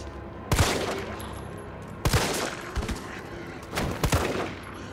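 Gunfire in the video game Resident Evil 3 Remake, three sharp weapon blasts spaced about a second and a half apart, each with a short echoing tail, loud and close.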